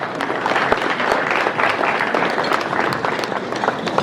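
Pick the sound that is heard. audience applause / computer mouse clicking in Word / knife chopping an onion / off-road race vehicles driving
audience applause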